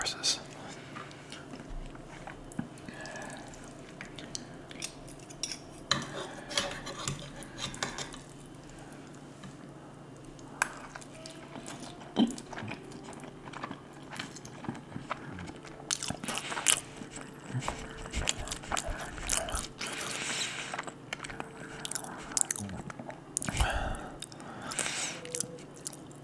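Wet, squishy chewing and biting on spaghetti in red sauce, close to the microphone in an ASMR setting, with soft smacking and slurping sounds scattered throughout under quiet whispering.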